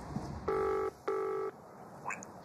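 A telephone number is dialed as two sustained keypad tones in quick succession, clear over quiet room background with faint noise afterward.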